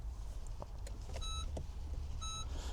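A 3rd-generation (GK) Honda Jazz being switched on: two clear electronic chime tones sound in succession among small clicks and a low steady hum inside the car.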